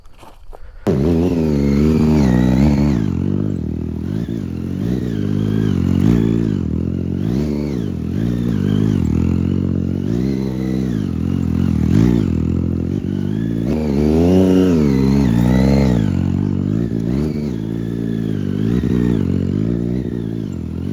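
A Triumph Daytona 675 motorcycle, the kind used for stunt riding, revs its engine close by, loud and sustained. The pitch rises and falls in repeated throttle blips and held revs for about twenty seconds, with no one talking.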